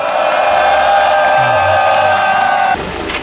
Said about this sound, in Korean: 큰 박수와 함성 부탁드립니다.